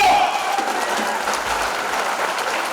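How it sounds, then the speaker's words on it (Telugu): A crowd at a public gathering claps hard on cue, a dense, continuous wash of applause that holds steady for a few seconds, with a bit of crowd noise mixed in. "గట్టి కొట్టాలి చప్పట్లు"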